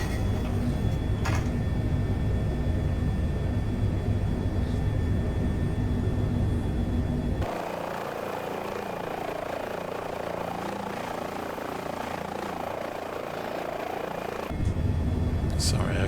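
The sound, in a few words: Airbus H145 helicopter in flight, Microsoft Flight Simulator video game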